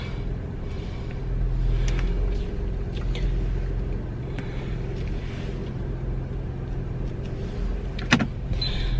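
A car pulling out and driving away, a steady close engine and road rumble running throughout with small clicks and a brief knock near the end, no talking.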